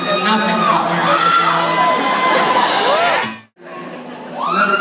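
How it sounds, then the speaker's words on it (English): A concert crowd screams and cheers loudly and continuously, with high shrill voices rising and falling, breaks off briefly into near silence, then surges back. "Stop screaming."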